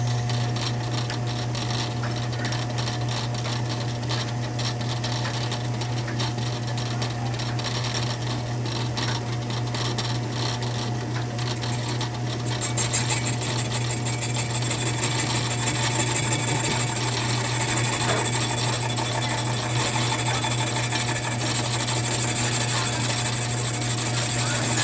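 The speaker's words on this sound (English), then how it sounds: "I'm just gonna go ahead and make another lathe pass" Metal lathe cutting a pass on a part for a 50cc racing chainsaw: a steady, continuous machine whine and hum with a constant low drone, running evenly the whole time with no talk over it.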